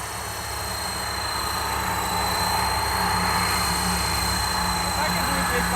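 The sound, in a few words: helicopter in flight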